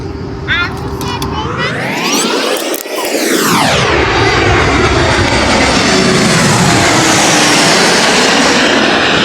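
Passenger airplane passing low over a pedestrian bridge near the beach in Kerkyra, Corfu, its engine roar swelling and sweeping in pitch, then settling into loud, steady broadband jet rumble that fills the scene.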